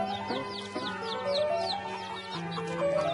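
A hen clucks in short repeated notes amid a busy background of chirping birds, chicks and other fowl, moderately close and steady.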